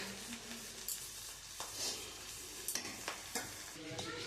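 Mixed fried rice is stirred in a pan over a low sizzle, with a spatula scraping and tapping the pan every so often, close and quiet.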